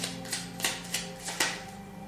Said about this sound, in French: je vais également faire un petit tirage avec les tarots